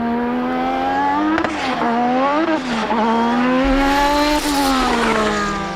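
Honda's 2026 Formula One power unit for Aston Martin screams loud and close, a high, sustained engine note rising and falling through upshifts and lifts, with a brief rasp near the middle.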